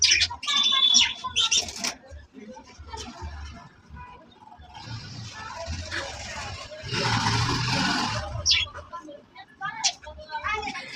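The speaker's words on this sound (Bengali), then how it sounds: "এই ফাঁকে পাখিরাও পাতার সাথে ঝোলাঝুলি শুরু করছে।" Birds chirp in a moringa tree with scattered short tweets, busiest at the start, and a soft burst of leafy rustling or wing flutter midway.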